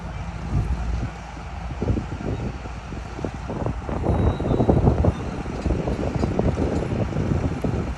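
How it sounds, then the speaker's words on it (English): Strong wind buffets an outdoor microphone near a train derailment site with an overturned Norfolk Southern SD70 locomotive, a continuous loud low rumble with gusty surges and no voices. "Oh, it is windy."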